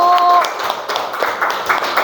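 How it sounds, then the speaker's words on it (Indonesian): Audience applause for group 1 after a student presentation during a PPL teaching-practice class, a dense wash of many hands clapping for about two seconds, fairly loud and close. "Tepuk tangan dulu untuk kelompok 1."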